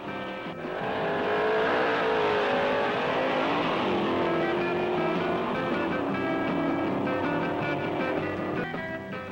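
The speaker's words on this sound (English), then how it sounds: "He calls to the line a 427 Mustang." A 427 Mustang drag car at a 1960s Ford drag meet roars loudly and steadily, its engine note sliding and rising as it revs at the starting line, with harmonic engine tones filling the whole stretch and a brief sharp burst near the end.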